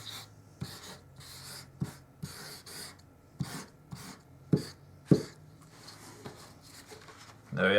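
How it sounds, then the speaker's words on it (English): A white 10mm squeezer ink marker is dragged across paper in a series of separate scratchy rubbing strokes with short pauses between them, heard close and fairly quiet. "the 10mm again with the white squeezer on the paper"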